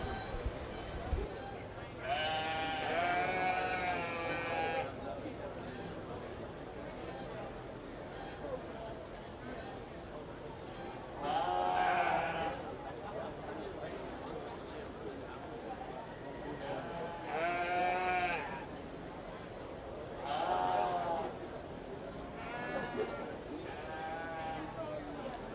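Sheep bleating at a 4-H/FFA livestock show, several loud, drawn-out wavering bleats rising at intervals over steady arena murmur while an announcer speaks over a PA system.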